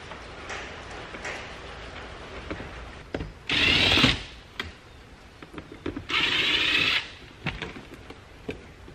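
A power screwdriver whirs in two short bursts, removing Phillips head screws from the shift plate of a classic car, with clicks and handling noises between the bursts.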